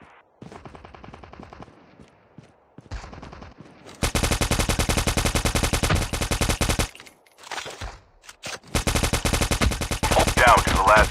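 Rapid automatic gunfire in the mobile shooter Call of Duty Mobile, during a battle royale match. Short scattered bursts give way to long, loud sustained volleys of dense, evenly spaced shots, broken by a brief pause.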